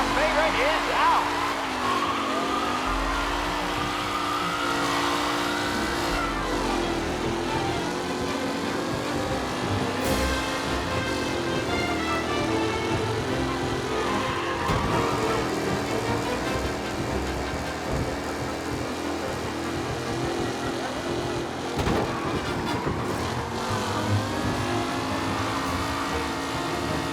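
Race cars in a Mafia: Definitive Edition race take off, engines revving and whining with pitch sweeps and tire noise, continuous and fairly loud, with a commentator's voice talking over it.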